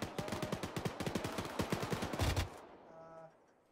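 Bursts of automatic rifle fire in a military video game set in a Chechen operation, rapid evenly spaced shots in quick strings for a few seconds, then fading into quiet background.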